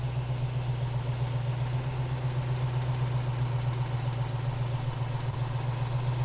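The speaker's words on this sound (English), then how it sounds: "Here is the engine that runs beautiful, does not miss a beat." A 1967 Chevrolet Chevelle SS clone car engine idles steadily with a low, even hum and no misses, running alone with no talking.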